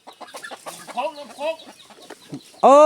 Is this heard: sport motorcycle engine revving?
no